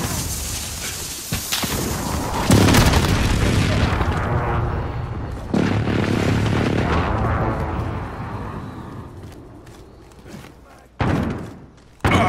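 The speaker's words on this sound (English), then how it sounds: "Enemy precision airstrike. Inbound." Heavy booms and thuds from a precision airstrike in Call of Duty: Modern Warfare multiplayer, several loud blasts with rumbling tails spread across the clip, the last one sharp and sudden.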